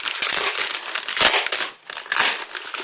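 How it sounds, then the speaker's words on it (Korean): Plastic wrapping crinkles and crackles almost nonstop, close and fairly loud, with a short dip in intensity just before the end. "비닐 소리 정말 죄송합니다"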